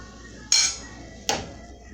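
Two sharp clinks of a dish or bowl in a kitchen as smoked herring is set into a bowl, bright ringing hits about three-quarters of a second apart, close and fairly loud over quiet room tone.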